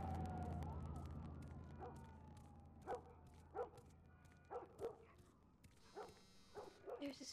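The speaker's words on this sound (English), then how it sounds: "All the dogs is barking in the neighborhood." Dogs barking across a neighborhood at night in the video game The Last of Us Remastered, a series of mid-distance barks spaced every second or so over a steady low rumble, with a faint siren-like tone early on.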